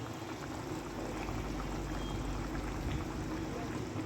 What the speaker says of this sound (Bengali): এই যে দেখছেন টকবক করে ফুটছে